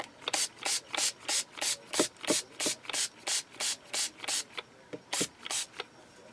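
Rapid rhythmic rubbing strokes of a washable sanding sponge being wiped off, about fifteen brisk swipes in a steady back-and-forth pattern, close and fairly quiet.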